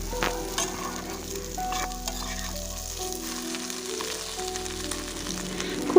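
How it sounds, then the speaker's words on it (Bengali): Fish eggs coated in masala fry and get stirred in a pan, a steady low sizzle with soft scraping of the spoon, a constant hum underneath and a slightly louder clatter at the very end. "আরও কিছুক্ষণ খুব ভালোভাবে কষাই করে নেব, মোটামুটি 1 থেকে 2 মিনিট মতো, যাতে সব মশলাটা ডিমের সাথে খুব ভালোভাবে লেগে যায়"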